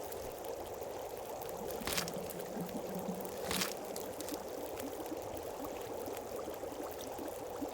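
Water is made in a survival video game on a Misery mode run, heard as a steady pouring, streaming wash with a few brief louder splashes.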